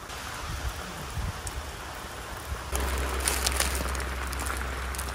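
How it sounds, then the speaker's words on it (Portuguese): Rain patters steadily on a tent, then grows heavier and denser partway through, drumming close overhead with scattered sharper drops. "Agora engrossou a chuva"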